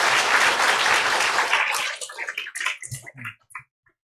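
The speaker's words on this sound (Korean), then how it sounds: "다시 한번 감사의 박수를 드리도록 하겠습니다" Church congregation applauding a visiting pastor after the sermon, dense loud clapping for about two seconds, then thinning to scattered claps that fade into quiet.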